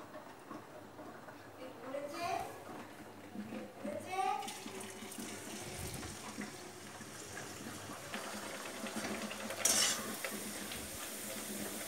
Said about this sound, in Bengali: তো চলো ভাজাটা শুরু করি।